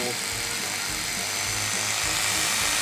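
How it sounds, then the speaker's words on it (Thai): A continuous high-pitched whirring of a cordless drill driving a screw into drywall on a low clutch setting, running steadily for the whole stretch, loud and close, with a low rumbling underneath. "ใช้โหมดขันสกรูของสว่านและปรับไปที่เบอร์น้อยๆก่อนนะครับ"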